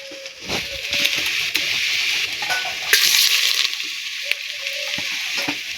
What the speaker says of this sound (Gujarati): આપણે હવે તેલ ગરમ થઈ ગયું છે તો વઘાર માટે લસણ નાખી દે।